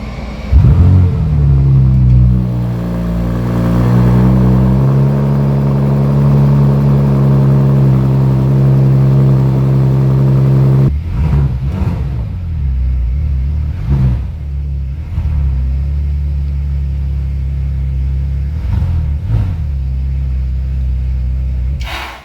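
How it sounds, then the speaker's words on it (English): A 2023 Bentley Continental with a W12 engine starts and revs, rising to a loud, deep sustained roar, then settling after a cutoff into a lower rumbling idle with a few short blips, close and alone. "the glorious rumble of this glorious W12"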